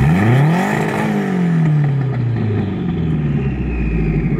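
A car engine revs up and settles, its pitch rising sharply then sliding down through a steady, loud drone, close by with no talk.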